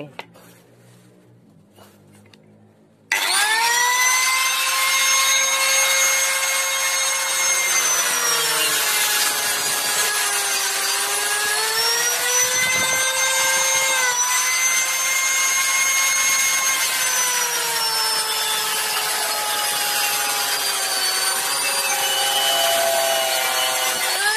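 A hand saw cutting through a used PVC pipe, a steady, continuous rasping stroke that runs loud and close for over twenty seconds after a brief quiet start.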